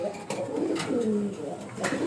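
Domestic pet pigeons coo in soft, low rolling calls close by, the rounded throaty phrases repeating with a voice talking over them.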